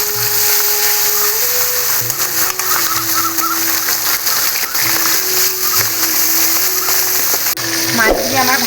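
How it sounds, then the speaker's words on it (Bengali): Pomfret fish frying in hot mustard oil in a wok gives a loud, dense, continuous sizzle and spatter throughout, with some faint tonal background sound underneath. "এখন মাছগুলো একে একে দিয়ে আমি ভেজে তুলে নেব।"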